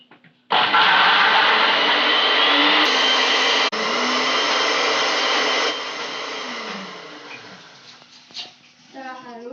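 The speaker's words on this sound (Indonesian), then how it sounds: "Setelah itu, blender hingga halus." A blender grinds shallots and garlic loudly and steadily for several seconds, then its motor winds down. A brief high whine follows near the end.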